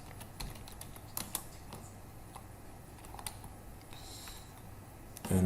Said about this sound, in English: instead of typing as I'm doing.